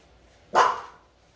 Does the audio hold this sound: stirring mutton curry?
no